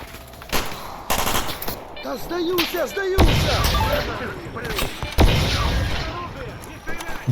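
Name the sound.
gunfire in video game STALKER Anomaly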